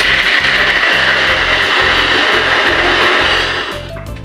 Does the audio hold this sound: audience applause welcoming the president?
no